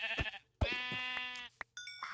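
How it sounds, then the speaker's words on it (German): Sheep bleating in the Minecraft video game: two or three short, wavering bleats with clear harmonic tone and brief pauses between them, close and alone without talk. "Ich habe auch Schafe gefunden."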